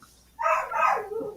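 A dog gives one short, fairly loud bark nearby, on its own with no talking.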